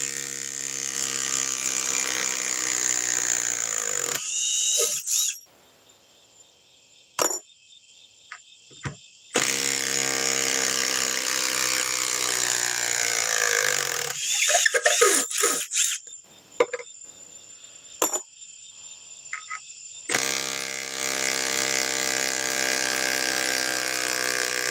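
A small impact wrench runs in long, loud, whining bursts during break-in, separated by brief silences and short blips, with a steady motor drone through each run.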